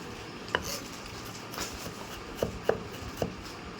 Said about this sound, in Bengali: এই দেখুন চাকু দিয়ে কুচি কুচি করে নিচ্ছি